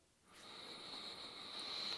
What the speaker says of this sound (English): Took some sniff of ammonia.